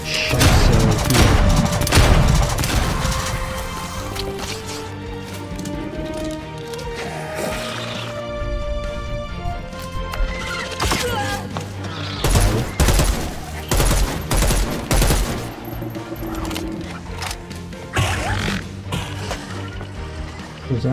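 Gunfire rages in the zombie video game Dead Island 2, with loud, dense bursts of shots, booms and impacts over game music, and a player talking at times.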